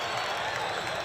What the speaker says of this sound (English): The supporters applauding.